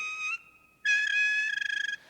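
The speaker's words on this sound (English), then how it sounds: "And 2 squeaky wheels." High, whistle-like squeaks from wheels, two sustained squealing tones, the second longer and wavering into a fluttering pulse before stopping.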